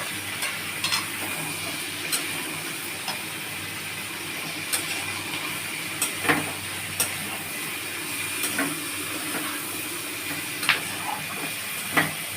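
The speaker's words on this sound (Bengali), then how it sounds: "এবারে আমি নাড়ছি এটা" Mushrooms, baby corn, spring onion and bell pepper being stirred in a pan, with a steady low sizzle and hiss under scattered scraping clicks of the spatula throughout.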